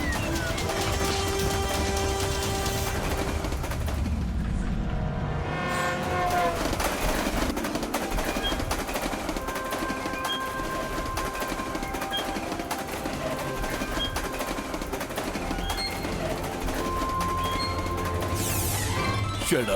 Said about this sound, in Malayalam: ആ ട്രെയിൻ ഇപ്പൊ ഫുൾ സ്പീഡിൽ വന്നുകൊണ്ടിരിക്കുകയാണല്ലോ.